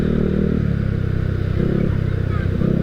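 A Honda Spacy scooter engine runs rough and uneven at close range during slow manoeuvring, a steady low rumble with a faint clatter throughout.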